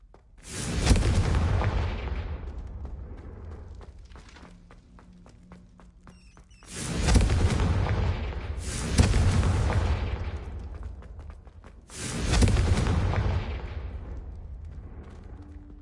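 Three loud blasts from the Confringo explosion spell in the video game Hogwarts Legacy, each a sharp burst that rolls off into a long decaying rumble, spaced a few seconds apart.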